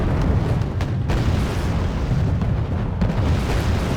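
A warship launches Harpoon missiles in the video game Wargame, producing a continuous, loud, roaring blast rumble with heavy low-end boom that stays steady for several seconds.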